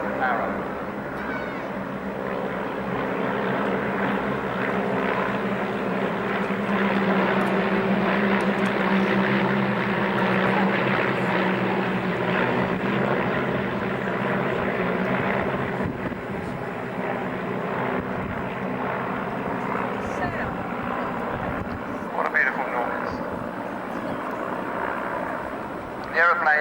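Vintage late-1930s propeller aeroplanes flying at an air display: a steady, loud engine drone with a rumbling low end runs through the whole stretch, with some fluctuation as the planes pass, and a voice talks over it.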